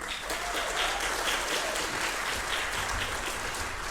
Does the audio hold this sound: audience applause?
yes